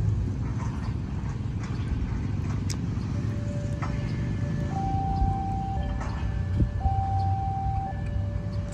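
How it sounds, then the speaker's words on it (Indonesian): A railway level crossing warning siren in Solo, Surakarta, Central Java sounds as steady tones over constant traffic rumble from passing vehicles. "Sirine dibunyikan, palang langsung menutup."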